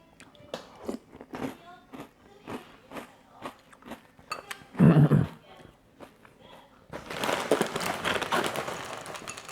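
Someone crunches and chews Kellogg Kakao Friends cereal, a string of close, sharp bites and munching crunches in uneven rhythm, followed by a longer burst of louder crunching.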